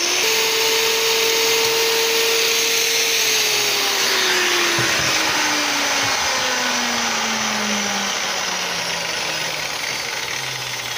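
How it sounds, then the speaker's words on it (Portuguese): Small electric sander running continuously and loudly, a steady whining motor drone with a pitch that slowly drops, used in motorcycle fork seal work; no talking. "É a minha lixadeira pequena."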